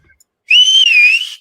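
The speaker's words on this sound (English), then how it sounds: "I have this insane whistle that I create with my own mouth." A loud, sustained whistle made with the mouth holds for about one second, its pitch wavering slightly. It stands alone with no talk around it.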